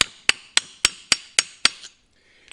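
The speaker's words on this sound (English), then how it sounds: "we're just going to lightly tap it on there just like this." A washing machine part is tapped lightly onto a shaft using a 3/4 inch piece, giving seven sharp, evenly spaced knocks with ringing decay, close and clear, then quiet.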